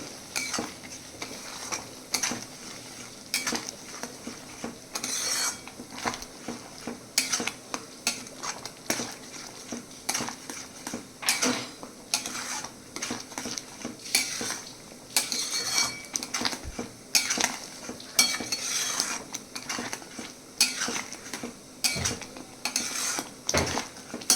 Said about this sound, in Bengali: নুন দিয়ে এখন ভালোভাবে মিক্স করে নিচ্ছি এটাকে।